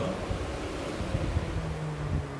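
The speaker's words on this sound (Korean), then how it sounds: "팬이 돌죠? 도는 소리가 나죠?" A car's electric radiator cooling fan being driven by a forced-drive test during an electronic control maintenance class gives off a steady, airy whoosh with a low motor hum underneath, continuous and even throughout.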